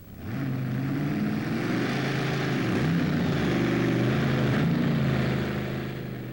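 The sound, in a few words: tractor pulling engine roaring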